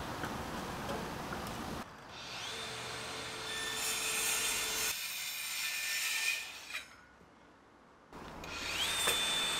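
A 4.5-inch DeWalt cordless circular saw buzzes through wood in two loud bursts, with a pause between them as the motor winds down and then spins back up.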